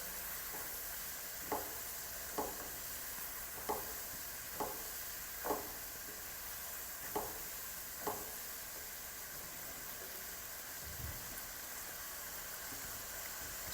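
Boiled pasta is stirred into a pan of reduced milk for chicken pasta, with a continuous soft sizzle and a series of regular spoon taps against the pan, then a dull knock, at close range with no talking.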